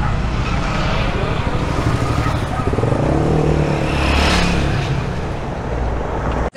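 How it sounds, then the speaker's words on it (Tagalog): A motorcycle passes on a road outside, a steady close engine roar that swells as it goes by and then cuts off abruptly, all heard through a budget lapel mic. "Yan, may dumaang motor."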